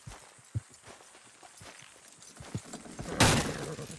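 Horses in Red Dead Redemption 2 clop along with scattered hoof impacts over a low outdoor background, ending in a loud burst of noise near the end.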